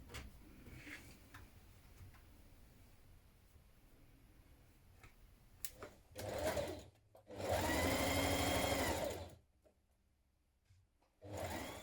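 A home sewing machine stitches a dress seam with a 1.5 cm allowance, starting with light ticking and tapping, then running in two loud, steady whirring bursts separated by a pause, close up and with no voices.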